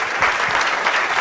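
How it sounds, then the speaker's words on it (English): Audience applause at a data visualisation community talk at BP, a steady, dense wash of clapping from a room of people, fairly loud and continuous throughout with no voices over it. "Round of applause for Nigel,"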